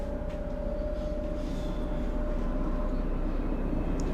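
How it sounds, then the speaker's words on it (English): A very long train rolls past steadily and continuously, a loud low rumble with a faint sustained tone above it, with no pauses for the whole stretch. "Now it's the longest train known to man."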